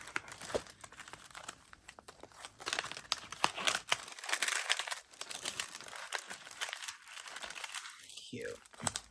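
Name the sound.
crinkling while unwrapping a SHEIN haul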